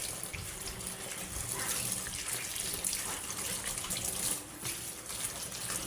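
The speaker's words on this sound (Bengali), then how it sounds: "এখন ভালো করে একটা একটা করে ধুইয়া নেব।" Tap water runs steadily into a sink while taro leaves are washed one by one, a continuous close splashing flow with no voices.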